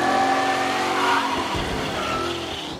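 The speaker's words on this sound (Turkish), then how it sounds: "Şöyle bir gaz verelim gençler." An old race car engine revs hard in Mafia Definitive Edition, a loud, steady roar that swells and eases slightly over a few seconds, heard alone with no voices.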